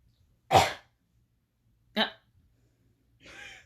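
A child's three short, sharp coughs, widely spaced, with the last one softer and breathier; close by with silence between them.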